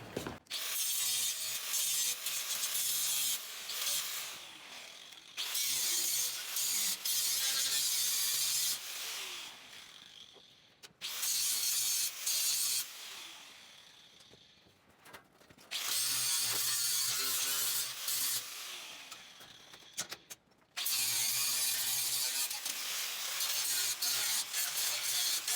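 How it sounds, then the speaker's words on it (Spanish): An angle grinder grinds down weld tack spots on an iron door fitted with book-type hinges, a loud, harsh, steady whine in long bursts separated by brief pauses as the tool lifts off the metal. "Procedemos a esmerilar los puntos."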